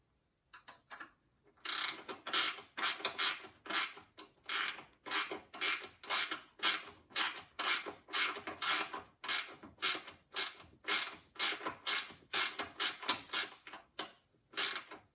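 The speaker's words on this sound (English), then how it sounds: "So I'm going to tighten down that nut, holding the screw in place." A wrench ratchets repeatedly while tightening a nut holding a screw on a NordicTrack T6.5 treadmill, about twenty crisp clicking bursts in a steady back-and-forth rhythm, close and alone after a quiet start.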